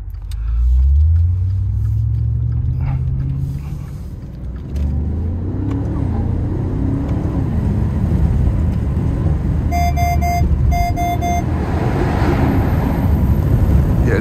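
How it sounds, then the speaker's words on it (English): A 2023 Maserati Ghibli Trofeo with a Ferrari-built V8 rumbles and revs loudly from inside the cabin during a drive, with deep engine drone, rising pulls and a brief horn-like tone partway through. "Makes wonderful cracks and pops and all these cool noises."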